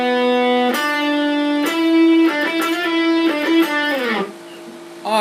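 Electric guitar plays the opening solo phrase of a song, several sustained notes with bends and slides, played alone, close and loud.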